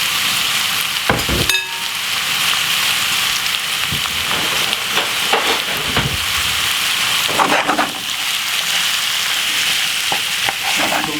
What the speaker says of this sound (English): we're just going to stir fry this off for about 10 minutes